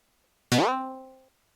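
A single cartoonish spring boing sound effect from the game TD2DR, sharp attack then a wobbling tone that fades over under a second, alone against silence.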